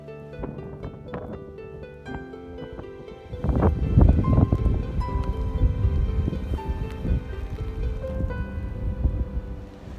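Steady rain and gusting wind outdoors, with a droning engine hum underneath that grows louder midway and stays.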